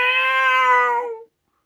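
A single long, drawn-out meow from a cat at a door, loud and close, holding steady before trailing off into silence.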